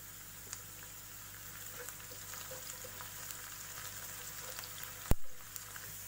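Chopped onions and curry leaves sautéing in a pan, a soft continuous sizzle with faint crackles, steady and quiet, broken by one sharp knock near the end.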